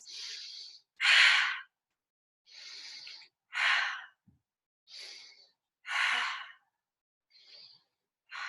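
Slow, deep breathing in yoga side angle pose, a steady series of long airy inhales and exhales separated by silences, close and clear with no talking.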